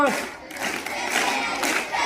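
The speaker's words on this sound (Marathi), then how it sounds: "जोरात टाळ्या वाजवा" Loud clapping from a children's audience at a Marathi devotional gathering, a dense burst of applause with crowd voices filling a short stretch.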